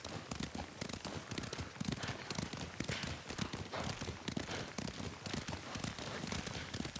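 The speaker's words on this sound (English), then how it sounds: "Lord Sakai taught me to ride a horse" Horse hooves clip-clopping at a steady riding rhythm in the video game Ghost of Tsushima, close and continuous over a dense background of ambient noise.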